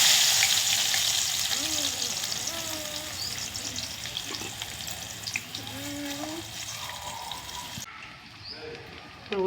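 Thinly sliced onion frying in oil makes a dense, loud hiss that gradually eases and then cuts off near the end, with faint voice-like tones drifting in the background.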